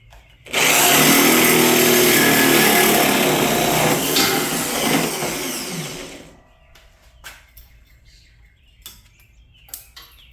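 Power saw cutting steel tubing for door bars on a twin-turbo Cuda, a loud steady high-pitched grinding whine for about six seconds, then it stops and quieter clanks and taps follow.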